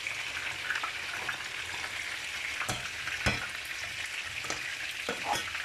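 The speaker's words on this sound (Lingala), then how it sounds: "bomoni mpe na kati ya matungulu mafuta eza te" Onions frying in a pot without oil give a steady close sizzle and hiss, broken by a few sharp scraping knocks from stirring, with no one talking.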